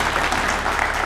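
An audience at an Urdu poetry mushaira in Basavakalyan, Mumbai claps, a brief, dense burst of crowd applause with no speech.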